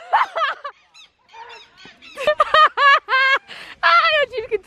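A goose-like bird honks and squawks in loud, harsh bursts at a camping spot, several calls in quick succession with short pauses between them, close by.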